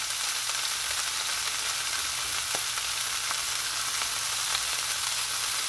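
Quail browning in a hot pan, a steady, dense sizzle and crackle of frying held close throughout, with faint occasional taps and no talking.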